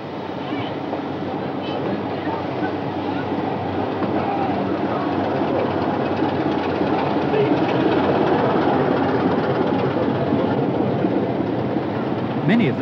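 Steam train on the single-track Kyle line of the Scottish Highlands, waiting at Garth station to cross a diesel service; a loud steady rumble of rolling stock and engine fills the whole stretch, with faint bird calls.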